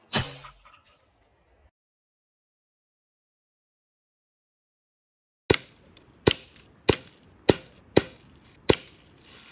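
A heavy pellet fired from a pellet gun into a toy model house, about six sharp cracking impacts at roughly half-second intervals after a long silence, loud and close with short decays.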